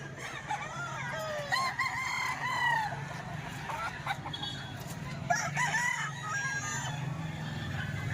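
A rooster crows several times nearby in Lipa, Batangas, over steady outdoor background noise.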